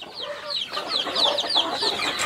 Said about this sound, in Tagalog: nandito naman yung mga bagong sisiw na walay sa kanilang mga ina